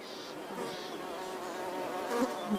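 Insects buzz steadily around a sickly sweet-scented flower in the wild, a continuous close drone of bees, wasps and flies with slight swells in intensity and no voices.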